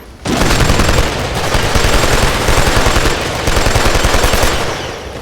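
Loud, sustained automatic gunfire from the video game Killzone 2, with rapid continuous bursts of shots with brief dips, filling the whole stretch without any talking.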